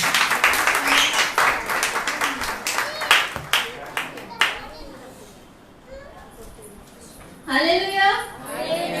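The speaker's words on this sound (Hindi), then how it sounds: "आगे के लिए जोरदार ताली।" Church congregation at a Sunday service clapping loudly together, a dense burst of applause over the first few seconds that fades out, with voices and children heard around it and speech returning near the end.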